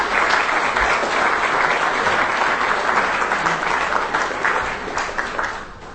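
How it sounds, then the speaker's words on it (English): Sustained audience applause at a football hall of fame enshrinement ceremony honoring a high school quarterback, a loud, full wash of clapping throughout that eases slightly near the end. "Please give Jaden Cummings a round of applause."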